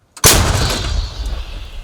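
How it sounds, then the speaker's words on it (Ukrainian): A single loud artillery gun blast near Bakhmut booms out sharply, then rumbles and echoes away over the next second and a half. "Гармата!"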